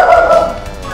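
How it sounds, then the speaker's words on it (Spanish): A pet dog lets out a short, loud, tonal bark-whine up close, a single sustained yelp lasting under a second with no talking. "mi perro se puso a ladrar"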